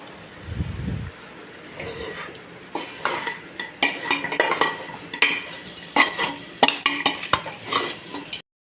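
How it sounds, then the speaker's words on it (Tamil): Country chicken being stirred and tossed in a pan for a village-style gravy, with repeated scraping and clinks of a utensil against metal over a soft sizzle. "இந்தளவுக்கு ஒரு நிமிஷம் கூட வதக்கியாச்சு"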